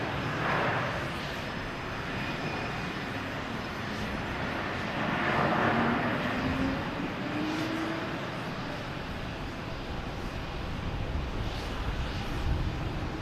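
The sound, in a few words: JetBlue airliner landing at Boston Logan Airport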